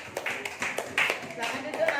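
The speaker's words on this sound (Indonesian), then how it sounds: "Tepuk tangan kelompok 3." A group of primary school children in a classroom claps hands in a short burst of rhythmic claps, with voices talking over them.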